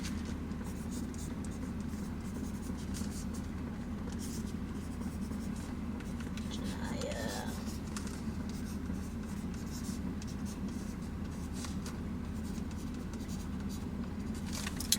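A pencil scratches steadily across a baby shower card in continuous short strokes, close by, under a constant low background rumble.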